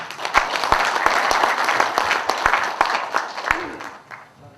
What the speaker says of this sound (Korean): 우리 인사해 주신 연맹위원장님들께 뜨거운 박수 다시 한번 부탁드리겠습니다.